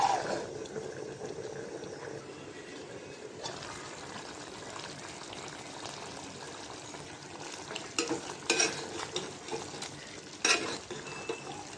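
Beef curry being stirred in a pot, a steady low bubbling simmer with a few louder scraping clatters toward the end, close, no talk.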